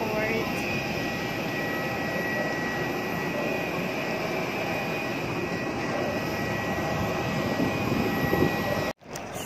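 Steady aircraft engine drone at an airport in Siem Reap, Cambodia, a continuous loud hum and whine that cuts off abruptly near the end, with faint voices underneath.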